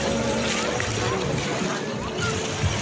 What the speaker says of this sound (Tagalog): Magpatama-tama tayo dito sa wave.